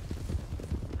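Horse hooves clip-clop in a steady, quick rhythm in the western role-play game WildRP, a moderately loud run of hoofbeats with faint voices in the background.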